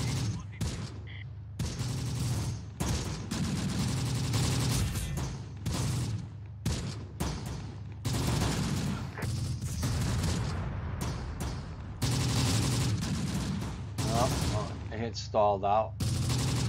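Gunfire in the video game Close Combat: The Bloody First, rapid bursts and overlapping shots with booms, loud and nearly continuous, while someone talks briefly over it.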